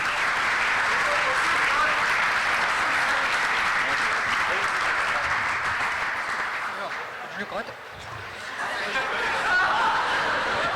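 Loud audience applause fills a school centenary-style celebration hall, dense sustained clapping that holds steady, dips briefly, then swells again toward the end, with faint voices mixed in.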